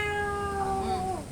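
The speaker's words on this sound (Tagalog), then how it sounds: "Ayun po ang pusa, naglalambing kay mother." A pet cat gives a single drawn-out meow, close and clear, with a falling pitch at the end over a quiet room.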